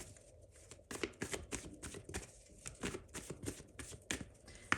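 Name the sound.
tarot cards being shuffled and drawn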